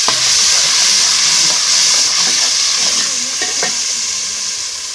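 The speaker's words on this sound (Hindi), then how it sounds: "ये जी लहसुन और अदरक, ये भी डाल रहे हैं" Garlic and ginger stirred in a hot frying pan, a steady loud sizzle with scraping spoon strokes running under it, easing slightly toward the end.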